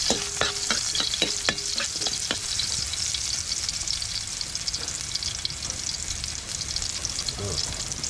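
Onion is stir-fried in a pan, with steady loud sizzling and scraping stir strokes near the start. The frying hiss carries on close and continuous to the end, with no speech.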